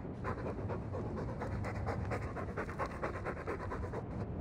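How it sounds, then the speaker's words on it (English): A dog in a video game pants rapidly and steadily, close up and fairly quiet, with a rhythmic breathy huffing throughout. "All that noisy dog breath, day in, day out, make him stop."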